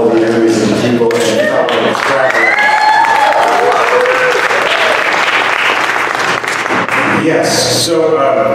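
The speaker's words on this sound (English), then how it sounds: "Let's have a round of applause for all the enemies of the people" Sustained audience applause fills an award ceremony for investigative reporting, loud and dense with steady clapping throughout, with some crowd voices and whoops mixed in near the end.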